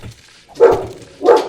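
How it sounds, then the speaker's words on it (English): A dog in the background gives two muffled barks about two-thirds of a second apart, moderately loud and heard indoors. "Sorry if you can hear a dog in the background."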